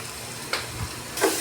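Onions softening in hot oil in a pan for a homestyle sardine (mathi) fish curry, a steady low sizzle broken by two brief scraping stirs, close by with no voices.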